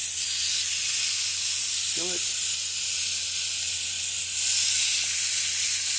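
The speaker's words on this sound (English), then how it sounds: "So I'm going to go ahead and put them into our skillet." Seasoned pork chops searing in a hot skillet, a steady loud hiss and sizzle that runs the whole time, with one brief faint voice partway through.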